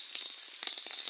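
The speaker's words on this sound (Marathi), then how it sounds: "बघ आता पण लागता पावसा, बेकार आलो पाऊस लागता." Heavy monsoon rain in Kankavli in the Konkan region, heard as a quiet, steady patter of scattered drops and crackly splashes over a short stretch, with no one talking.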